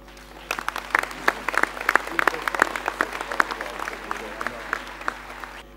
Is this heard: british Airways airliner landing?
no